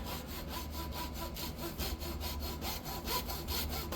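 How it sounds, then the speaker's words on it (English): A hacksaw with a sharp blade cuts through the shaft of a Stihl KM 91R power head in steady, rhythmic back-and-forth strokes, close and continuous for the whole stretch, with no talking. "Use a good sharp blade. I'm using a hacksaw."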